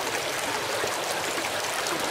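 Water from a forest stream rushes and burbles steadily at close range, a continuous broadband wash with no voices over it.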